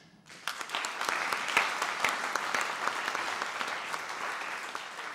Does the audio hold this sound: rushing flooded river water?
no